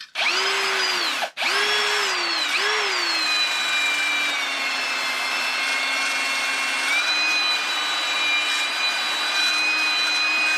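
Compressed air or a shop vac blowing dust and dirt out of gas burners from an inshot burner, a loud steady high-pitched whine that sustains for the whole clip after two brief starts.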